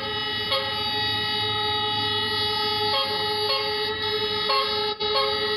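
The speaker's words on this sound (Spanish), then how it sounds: "Escuchen esta caravana además, cómo suenan son bocinas de bronca" Truck horns in a protest caravan on a road blare continuously in layered, sustained tones, loud and close, with brief pulsing swells and a short break near the end, no voices over them.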